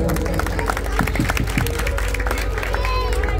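Clapping and crowd noise rise at a devotional harinam sankirtan gathering in honour of a singer, blending with a continuous murmur of the crowd and an ongoing musical hum.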